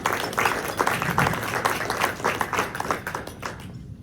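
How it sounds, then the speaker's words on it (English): Audience applause at a community foundation lunch: a room of people clapping steadily for about three and a half seconds, dense and fairly close, then fading off quickly at the end. "I think that deserves a round of applause."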